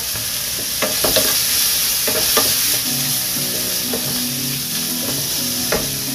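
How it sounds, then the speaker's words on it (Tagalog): Chicken sizzles steadily in a hot pan for ginisang monggo with malunggay, with intermittent scraping and clinking of a stirring utensil, close and continuous. "lagay na natin yung chicken, isahog natin"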